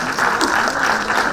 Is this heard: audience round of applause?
yes